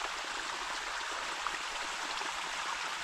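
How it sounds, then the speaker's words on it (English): A stream of flowing water heard from above on a coastal walk between Wadebridge and Port Isaac, a steady, even rushing hiss at moderate distance, constant and unbroken, with no voices. "It sounds like a decent flow of water."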